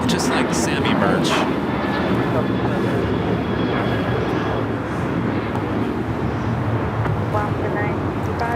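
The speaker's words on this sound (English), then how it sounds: "a 737-900 ER. Alaska Airlines, flight 965." An Alaska Airlines Boeing 737-900ER jet at LAX gives off a steady, loud broadband engine roar that holds for several seconds, with voices talking over it.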